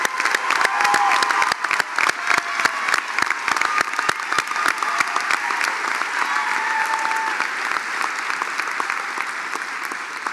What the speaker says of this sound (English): Let's give these outstanding students a round of applause.